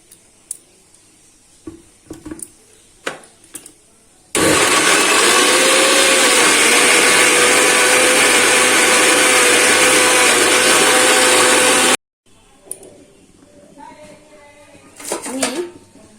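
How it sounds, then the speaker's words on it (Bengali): An electric blender grinds coriander leaves and tomato in a single loud, steady whir lasting several seconds. Kitchen clatter and a person talking come before and after it. "ধনে পাতা আর টমেটো এই যে এটাকে আমি বেটে নেব এবারে"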